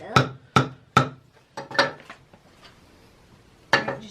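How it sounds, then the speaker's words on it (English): Wooden pieces of a kids' picture frame are tapped together in sharp, close knocks: three evenly spaced taps, a small cluster, then a pause before one final tap, with no voices. "Just tap it a bit"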